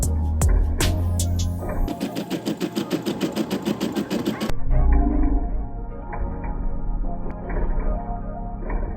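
A sewing machine stitches custom Gucci-style Nike Air Force One sneakers, running in a fast, steady mechanical rattle for a few seconds before stopping, then softer handling and motor noise follow, close up.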